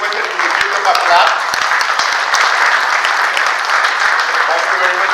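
An audience at a panel discussion on elevator safety claps steadily and continuously throughout, a dense, even applause with no pauses.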